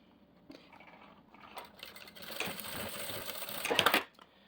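A sewing machine runs a quick burst of stitches through a milk carton pouch, starting softly and building to a brief louder run before stopping.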